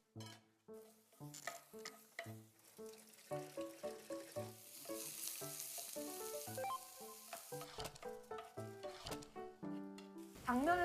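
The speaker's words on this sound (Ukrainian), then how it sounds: "Тепер треба це обсмажити, додавши трохи олії." Glass noodles and other food sizzle in hot oil while being stirred and tossed, the crackle rising and falling in steady pulses and getting louder near the end.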